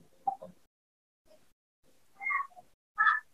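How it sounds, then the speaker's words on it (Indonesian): A cat meows several times, with distinct calls spaced across a few seconds and short gaps of silence between them, fairly close and clear, with no talking. "Pantasan kucing-kucing itu pada datang dan nggak mau pergi."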